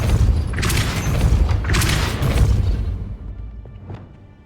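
Magic spells from Hogwarts Legacy, a Depulso force blast among them, land as heavy booming whooshes one after another before the rumble fades to a quieter tail with a faint high ring.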